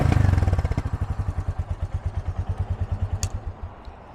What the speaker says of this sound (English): Let me give it a couple little revs for you.